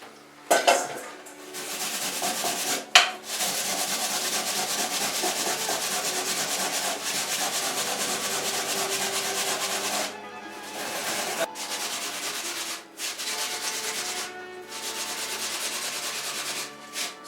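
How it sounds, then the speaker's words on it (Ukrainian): Steady rough scraping of potatoes against a metal grater, continuous and close, with a few brief pauses and clinks between strokes. "тремо на терці"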